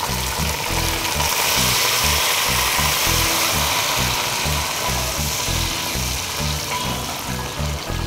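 Onions, chilli, mint and cilantro fry in a pan for chicken biryani, giving a steady, close, loud sizzle throughout with a rhythmic low thumping underneath.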